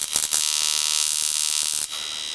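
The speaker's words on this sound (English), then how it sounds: "You can drive a modern flyback at 75 to 80 Hertz." A modern flyback transformer driven by an ignition coil driver kit gives a loud, steady electrical buzz with a pulsing rhythm, close up. Brief clicks mark the start, and the tone drops near the end.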